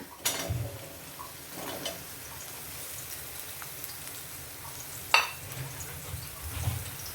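Round slices of ridge gourd sautéing in a pan for chutney, a soft low sizzle with a few stirring clatters and knocks, faint and steady underneath.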